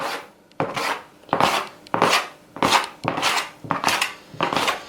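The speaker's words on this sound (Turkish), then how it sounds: "Bezeleri kesiyorum." A knife cuts through lavash dough on a board to portion it into balls, with eight or so evenly spaced, close chopping strokes, each a short scraping thud.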